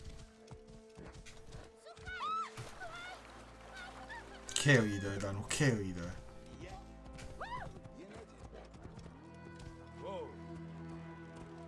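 Horse galloping in Assassin's Creed Origins, with hoof clip-clop, neighs and other animal calls over game ambience, while someone talks throughout.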